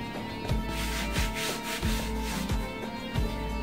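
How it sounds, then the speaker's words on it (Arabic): Floured brioche dough for a raisin-filled loaf is rubbed and shaped on a floured surface, giving steady rhythmic brushing strokes that repeat about every two-thirds of a second, close and fairly loud, with no talking. "ندير شويه الدقيق باش ما تلصقليش في الهبه وغادي نقلبها كومسا وغادي نقاد الدريش ديالي"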